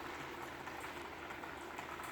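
Rain falls steadily on a wet day in Muğla, Turkey, a faint, even hiss of drops without pauses or voices.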